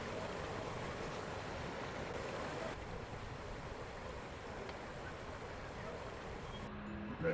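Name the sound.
rushing water of a small river next to village houses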